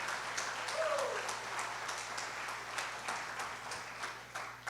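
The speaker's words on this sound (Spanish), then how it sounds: "dale un aplauso fuerte a Jesús de Nazaret" Church congregation claps for Jesus, a fairly quiet, distant applause with scattered individual claps over a low steady hum, a brief vocal sound near the start.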